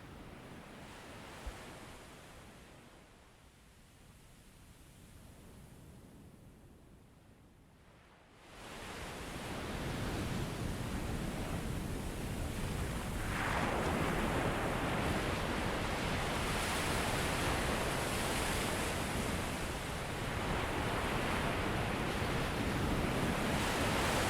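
Ocean surf rolls onto a deserted beach in Portugal, a broad steady roar that starts softer and swells to a louder continuous wash of breaking waves, with a hint of wind and no voices.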